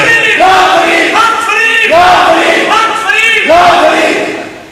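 A large crowd at a religious conference chants the Sufi slogan Haq Farid ya Farid in loud, rhythmic unison, the call repeating in rising and falling waves several times without pause.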